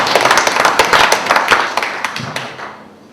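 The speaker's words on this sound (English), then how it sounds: "Little round of applause for the first person to reach the final." A short burst of applause from a small group, brisk clapping close by that thins out and fades over about three seconds.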